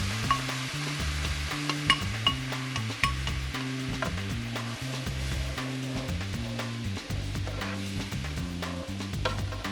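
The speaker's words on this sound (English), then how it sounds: "look, it's already simmering, huh?" Half and half cream simmers in a pan for a creamy garlic Tuscan shrimp sauce, giving a soft steady bubbling sizzle with frequent light ticks and scrapes from stirring, close and without voices.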